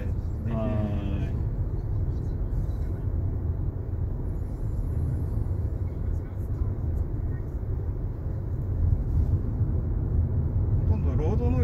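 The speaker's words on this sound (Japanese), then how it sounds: "ほとんどロードノイズしか聞こえてこないですね。" Steady low road rumble fills the cabin of a Nissan Kicks on the move, a dense, even drone that holds at the same loudness from start to finish.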